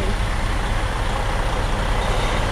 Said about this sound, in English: I've been hearing all of the huge trucks coming out of here